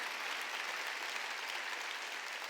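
Church congregation clapping steadily during an Easter Sunday worship service, a dense, continuous wash of many hands at moderate distance with no talk over it.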